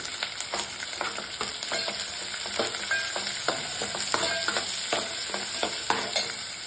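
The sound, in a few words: curry leaves frying in hot oil for avalakki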